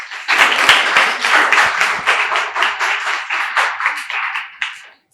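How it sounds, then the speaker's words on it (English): An audience at a lecture claps to welcome a professor, a loud, close burst of many hands clapping with a pulsing rhythm that holds steady and then fades out quickly at the end. "Now I request everyone to give a round of applause and welcome our professor"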